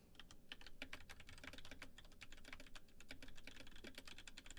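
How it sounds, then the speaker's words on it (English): Typing on a computer keyboard, a steady stream of quick, close key clicks with uneven rhythm continuing throughout, faint overall and with no talk. "Look away for 5 seconds typing to Tim Ugg."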